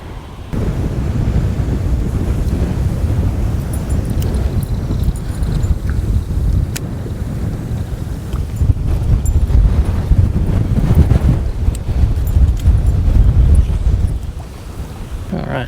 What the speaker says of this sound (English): That's the wind I was hoping for.